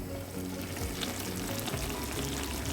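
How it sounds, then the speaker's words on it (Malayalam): Mushroom masala curry with mixed vegetables bubbles and sizzles steadily in a pan, a continuous close, dense crackle with small popping bursts and no voices. "എന്താ നമ്മുടെ കറിയൊക്കെ നന്നായി തിളച്ച് വന്നിട്ടുണ്ട്"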